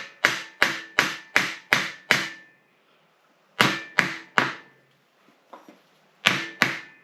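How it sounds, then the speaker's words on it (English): A small hammer taps a Ford Model A steering box part on a 1930 car, sharp close metallic knocks in quick runs of six, three and two, with short pauses and faint softer taps between. "Use the little hammer."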